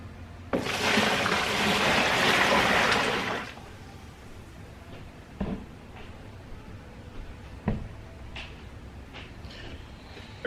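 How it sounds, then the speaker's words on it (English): Water pours into a tub being prepared with soap for dyeing Yeezy 500 shoes: a loud, steady rush for about three seconds, then quieter drips, splashes and handling knocks. "the amount of water that I just put into this tub right here definitely isn't enough to fully submerge the shoes."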